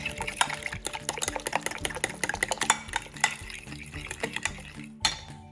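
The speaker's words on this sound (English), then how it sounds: "Give that a quick whisk." Whisk beating dry ingredients for wheat keto bread in a bowl, a quick run of rapid, close clinking scrapes and taps against the sides, fairly quiet with no talk.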